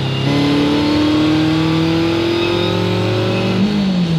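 A Mazda Miata fitted with a swapped Suzuki Hayabusa motorcycle engine pulls hard through the gears, its loud, close engine note climbing steadily in pitch with a brief shift near the end.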